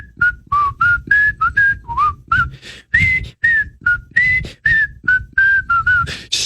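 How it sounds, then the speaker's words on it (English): A man whistles a short melodic tune in quick, separate phrases, each note clear and close, alone with no talk around it. "No, I was going to whistle."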